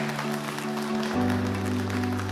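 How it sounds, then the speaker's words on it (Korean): An audience claps steadily throughout at the finals of the 2024 Seoul Big Data Campus contest, with a sustained musical tone under the even, moderately loud applause. "여러분 다시 한번 따뜻한 박수 보내주시기 바랍니다"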